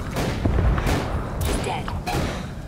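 Dense, loud gunfire in the Ghost Recon Wildlands video game at an airbase, with repeated booming shots layered over one another and heavy rumble throughout.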